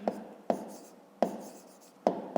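A pen strikes and scratches on paper during a fifth-grade maths exercise, four sharp taps in an uneven rhythm, close and quiet.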